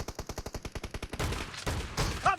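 Video game gunfire: a rapid, even train of about a dozen close shots, then heavier blasts and a brief tone at the end.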